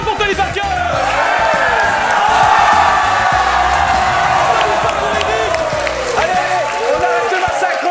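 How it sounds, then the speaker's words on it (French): A loud crowd claps, cheers and whoops for basketball player Tony Parker, sustained and energetic throughout, with voices shouting over the applause. "applaudissements pour Tony Parker!"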